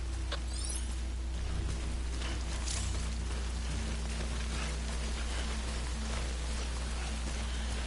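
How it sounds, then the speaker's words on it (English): Timefall rain in the video game Death Stranding pours as a dense, steady hiss of drops on surfaces, constant and enveloping, over a low droning rumble. "Don't stay out in the rain any longer than you have to."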